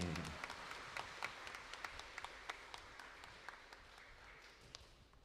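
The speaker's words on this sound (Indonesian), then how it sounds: "Ya, tepuk tangan dulu dong" Audience applause at an Islamic preaching event with an ustadz, a moderate, sustained patter of many hands with scattered sharper claps standing out, fading gradually over several seconds.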